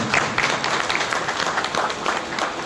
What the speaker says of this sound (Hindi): इनके लिए जो जोरदार तालियों के साथ एक बार स्वागत किया जाए